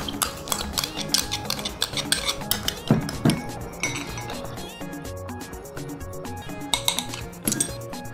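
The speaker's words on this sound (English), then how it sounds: "I'll add a little bit of oil and some of this barbecue sauce. So I'm going to mix." Meat kebab marinade being mixed with oil and barbecue sauce in a bowl, with repeated clinks and scrapes of a utensil against the dish and a brief stirring rub, fairly close and without talk.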